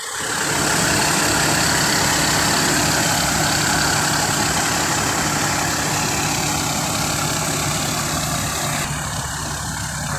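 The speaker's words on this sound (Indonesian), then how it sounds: "ini mesinnya terdengar halus ya teman-teman" Sempati Star bus engine idling smoothly, a steady near low rumble with even mid-range drone held at constant loudness throughout, no talk over it.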